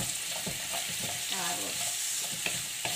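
Potatoes and carrots sautéing in a pan for Filipino menudo, a close, steady sizzle broken by rhythmic scraping stirs every half second or so.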